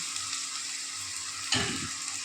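Potatoes fry in hot oil with a steady bright sizzle, then a louder burst of crackling and bubbling about halfway through as more goes into the pan.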